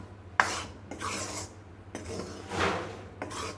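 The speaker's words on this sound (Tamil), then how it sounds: "இது கடையில் வாங்கின கேழ்வரகு மாவு தான் நான் இப்போ வச்சு வறுக்கிறது" Store-bought ragi (finger millet) flour is dry-roasted in a pan, heard as repeated scraping and stirring strokes of a utensil against the metal pan, close and fairly quiet, in several bursts with short pauses.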